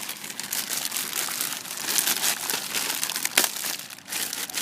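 Plastic packaging bag holding a solid bike tire being opened and rummaged through, with dense continuous crinkling and rustling up close, with a few sharper crackles and no talking.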